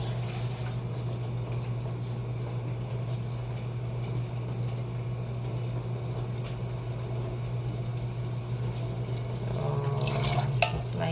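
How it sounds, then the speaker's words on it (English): A thin trickle of water runs into a can of mung beans, a soft steady pouring under a low hum, with a brief clatter near the end. "just gonna put a little bit, just a tiny bit of water"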